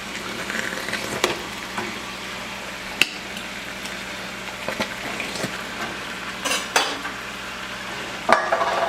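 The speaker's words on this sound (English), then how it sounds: "We're just going to mix this all up" Browned ground beef and two cans of refried beans are stirred together in a pan for a casserole, giving a steady soft sizzle with scattered spoon scrapes and knocks against the pan.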